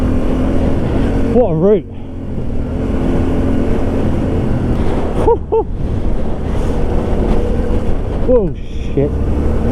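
Yamaha Tenere 700 motorcycle ridden on a rough route, its engine droning steadily under heavy wind rush while the rider talks and exclaims over it.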